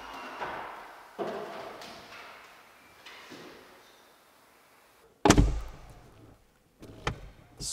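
A Mercedes G63 HOFELE HG800 door without soft close shuts with one loud solid thud about two-thirds through, after softer handling knocks and rustles, then a faint follow-up bump.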